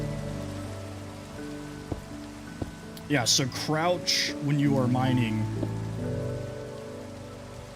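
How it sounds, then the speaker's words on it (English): Steady rain falls across a Minecraft game world, a constant soft patter running throughout while a person talks over it in the middle. "Oh, look, rain."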